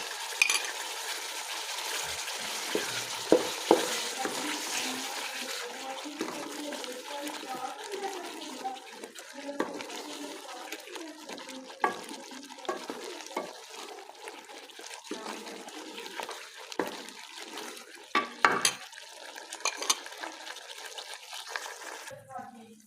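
Potatoes and spices frying in a pan with a couple of spoons of cream, a low bubbling sizzle with repeated scrapes and knocks of stirring over about twenty seconds, moderately close.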